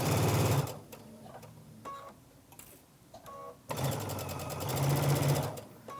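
A sewing machine stitches a seam on a fabric pillow, running in a fast buzzing whir, pausing with faint handling sounds, then starting again and running steadily.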